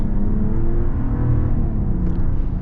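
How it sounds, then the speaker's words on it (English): A 2024 Jeep Grand Wagoneer Series 3 accelerates at full throttle, giving a steady, loud engine drone with a deep rumble that holds through the whole stretch, with no voices over it. "Let's get our full-blown acceleration here."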